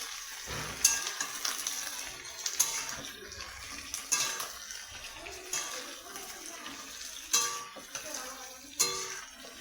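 Local chicken meat goes into a hot wok with potato, onion and spices, sizzling and frying steadily while a spatula stirs it in a series of scraping, splashing bursts every couple of seconds.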